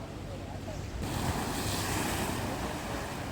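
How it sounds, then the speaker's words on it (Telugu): Sea waves break beside a coastal fort jail built by the Portuguese, a continuous loud roar of surf mixed with strong wind buffeting the microphone. "మొత్తం ఇట్లా అలలు వస్తున్నాయి"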